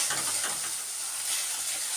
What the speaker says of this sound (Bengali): এখন মশলাটা কষিয়ে নিই।